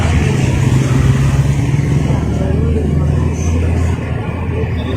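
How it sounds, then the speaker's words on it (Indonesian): A motorcycle engine rumbles steadily at close range with low, continuous throbbing, mixed with passing road traffic and crowd noise in a busy street in Solo. "Motor itu ya."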